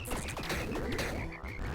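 Frog croaks from the video game Tiny Rogues, a run of quick throaty croaks with cartoonish rising and falling pitch, loud and alone.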